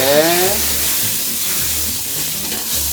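A loud, hissing sizzle as a mixed seasoning sauce hits a hot wok while cooking shrimp, settling into a steady bubbling crackle with faint background noise.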